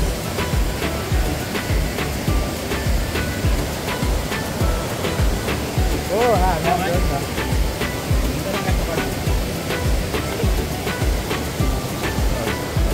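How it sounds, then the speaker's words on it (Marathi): A waterfall roars near the Dhutpapeshwar temple in Rajapur, a loud, steady rushing wash heard throughout, with brief voices talking over it. "तिकडे सुद्धा धबधबा पाहत आहे. खूप सुंदर असा धबधबा आहे"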